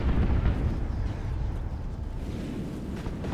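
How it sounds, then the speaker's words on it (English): An Ork battle wagon fires on a bunker in Dawn of War 2, heavy low rumbling blasts and explosions rolling continuously at close range, without talking. "Battle wagon shooting at the bunker."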